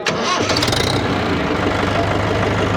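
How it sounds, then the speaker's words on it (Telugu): A new Mahindra tractor's diesel engine settles into a close, loud idle just after starting, with a rapid, even low knocking beat. A voice is faintly present. "దీని ఇంజన్ బీటింగ్ సౌండ్ కూడా మీకు తెలుస్తుంది."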